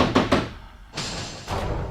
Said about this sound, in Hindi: इस वक्त दरवाजे पर खटखटाहट